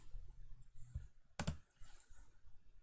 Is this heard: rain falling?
no